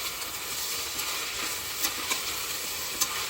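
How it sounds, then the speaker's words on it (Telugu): Tomatoes are stirred into a sizzling eggplant and potato curry, a steady close frying hiss broken by a few sharp scrapes of the spoon against the pan, with no voices. "ఇప్పుడు టమాటాలు యాడ్ చేసుకొని ఇంకొకసారి మళ్ళీ కలుపుకోండి."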